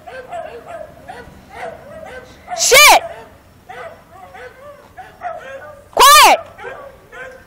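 Several dogs yip, whimper and bark in a busy mix, with two loud, sharp outbursts standing out, while people talk and call out commands over them.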